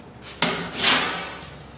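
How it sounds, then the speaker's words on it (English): A center punch struck on 3 mm mild steel plate gives one sharp metallic tap, followed by a faint scraping rustle, quiet and close. "I marked and center punched two points where I will drill a hole,"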